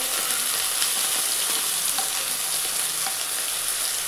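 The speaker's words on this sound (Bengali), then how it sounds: "আলুটা মোটামুটি ভাজা হয়ে গেছে। এবার এর মধ্যে আমি টমেটো, আদা, হলুদ গুঁড়ো, লঙ্কার গুঁড়ো আর একটু নুন এটা দিয়ে দিলাম" Potatoes frying in a pan with tomato, ginger, turmeric, chili powder and salt just added, giving a steady, loud broadband sizzle with occasional stirring clicks throughout, no talking.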